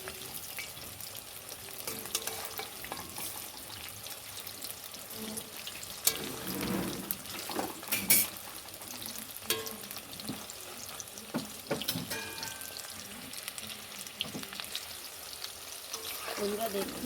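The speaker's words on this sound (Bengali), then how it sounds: "এক পিঠে করে ভেজে দেবো।" Chicken pakoras deep-frying in hot oil on a home gas stove, a steady soft crackle and sizzle running throughout with occasional clinks and stirring, fairly faint and close.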